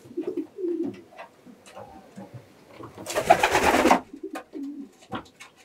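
Soft, low cooing of a marathon racing pigeon repeated close by, with a brief burst of wing flutter or rustling partway through.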